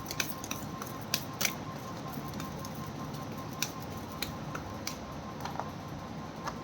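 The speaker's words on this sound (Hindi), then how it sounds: "this is my last shuffle" Tarot cards being shuffled, a dense steady patter of soft card flicks and light taps with scattered sharper clicks, close and continuous without talk.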